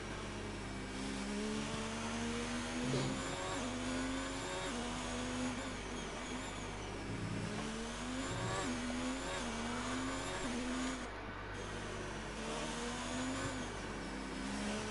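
Onboard race car engine in a racing video game on a flying lap at the Hungarian GP, a loud sustained whine rising and falling through upshifts and downshifts around corners, continuous with no voices.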